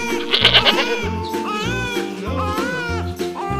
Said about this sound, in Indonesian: Dek, itu ada kambing tuh Dek.